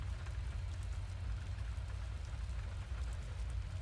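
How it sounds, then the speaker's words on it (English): Steady rain falls in the video game Witch on the Holy Night, a constant soft hiss with a low rumble beneath it, unbroken and even throughout, with no voices. "his attention returned to the sound of the rain once more"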